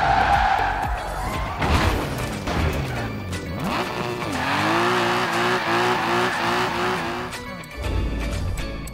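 Car drifting in Forza Horizon 4, driven with a Logitech G29 steering wheel, tires squealing and skidding as the engine revs and climbs in pitch, loud and continuous with a crash-like burst near the start.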